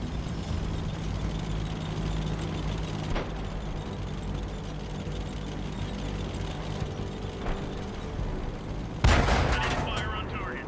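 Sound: Centurion Mk. I tank gun firing, World of Tanks video game

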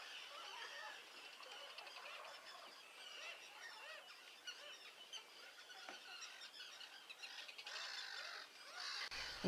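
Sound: gulls and terns calling

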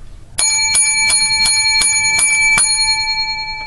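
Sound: bells ringing for holiday special

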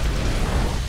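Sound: Rathalos fire attack explosion in video game Monster Hunter World

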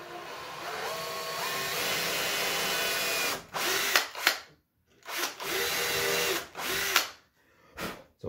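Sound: power drill boring into wood

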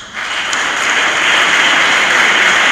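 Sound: applause

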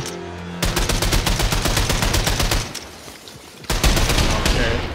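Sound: gunfire in video game Wolfenstein II: The New Colossus

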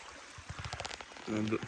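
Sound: water flowing in a stream

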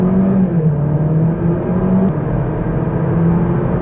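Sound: Opel Astra 1.6 Turbo accelerating from 0 to 100 km/h

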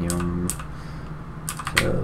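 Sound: typing on computer keyboard

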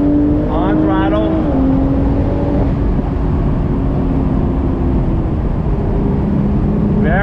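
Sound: 2020 BMW Z4 M40i engine driving through bend on throttle

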